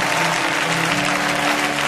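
A church congregation applauds during a sermon, a dense, steady burst of clapping from a crowd lasting a couple of seconds.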